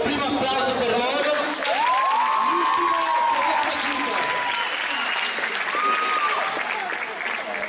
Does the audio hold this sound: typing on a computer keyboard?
no